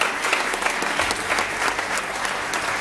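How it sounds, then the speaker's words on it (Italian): Steady applause from an audience at a short-film festival awards ceremony, greeting the third-place winner; dense, even clapping fills the whole moment without pause. "Un applauso"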